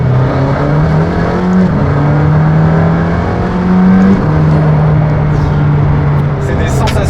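A McLaren Senna, an 800 hp sports car, accelerates hard, its engine drone rising and stepping through gear changes as it keeps up a steady loud roar, heard from inside the cabin while people speak over it.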